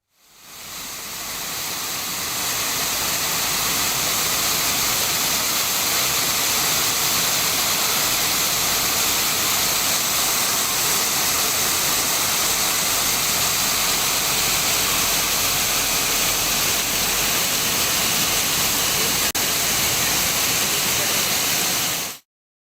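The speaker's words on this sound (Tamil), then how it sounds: "காவிரி கூட்டு குடிநீர் திட்ட குழாயில் உடைப்பு ஏற்பட்டு லட்சக்கணக்கான லிட்டர் தண்ணீர் வீணாக வெளியேறி வருகிறது" Water gushing from a burst Cauvery drinking water pipeline in Karur, a loud, unbroken roaring rush that holds steady for about twenty seconds before cutting off.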